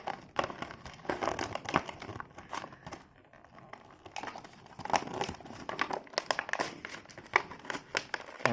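Plastic packaging of a boxed WW2 German toy soldier figure being opened. Crinkling and rustling crackle on and off throughout, close and fairly quiet.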